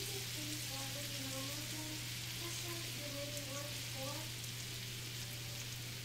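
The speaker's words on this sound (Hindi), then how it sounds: "अभी हम वेट करेंगे ताकि एक साइड से फिश फ्राई हो जाए" Fish frying in a pan of oil, a continuous soft sizzle and crackle at low level, with quiet talk and a steady low hum in the background.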